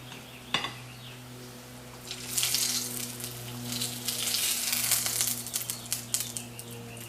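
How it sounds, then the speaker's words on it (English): Tortilla shallow frying in a pan with chutney, a steady crackling sizzle that swells and stays busy at close range, with a few sharp pops and a low hum underneath. "Now I'm going to be putting this for shallow frying with the chutney."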